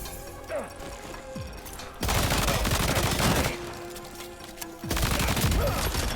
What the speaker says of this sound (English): let's see if the machine pistol does sufficient damage